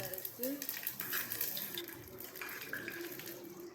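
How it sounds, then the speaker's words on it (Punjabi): Cumin seeds sizzle in hot oil for tempering a salted rice dish, making a steady close hiss that stays fairly constant, with a faint voice briefly underneath. "ਆਵਾਜ਼ ਬੜੀ ਪਿਆਰੀ ਲੱਗਦੀ ਤੜਕੇ ਦੀ ਜਦੋਂ ਜੀਰਾ ਪਾਈਦਾ ਤੇਲ 'ਚ"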